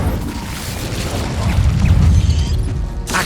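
A fire spell cast in Hogwarts Legacy gives a dense, roaring burst with low rumbling booms that swells in the middle and then cuts off sharply at the end.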